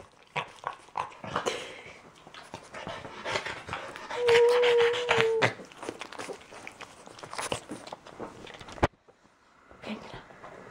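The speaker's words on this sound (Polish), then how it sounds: "Czy ty mi gryziesz koc?" A dog bites and chews a blanket indoors, with close, irregular chomping, rustling and snuffling, a brief whimper, and shuffling movement, all fairly faint.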